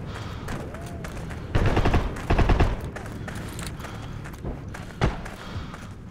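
Gunfire in the video game Heroes & Generals, scattered shots popping at mid distance with two heavier, louder bursts of rapid fire and a lone sharp crack near the end.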